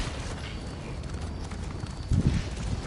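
Horse hooves clip-clop steadily in the Elder Scrolls Online video game as a character rides, a rhythmic galloping patter with a louder thud toward the end over battle ambience.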